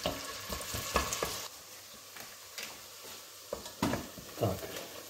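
Onions frying in lard for Szeged goulash, a steady close sizzle with repeated scraping stirs of a utensil through the pan.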